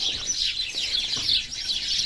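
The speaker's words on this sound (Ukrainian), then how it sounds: "ох і горобці" A flock of house sparrows chirps busily and continuously outdoors, a dense close chatter of overlapping tweets with no other sounds.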